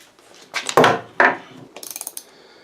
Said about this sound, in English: The boys got those 4 bolts loosened, and Logan is just taking the nut off there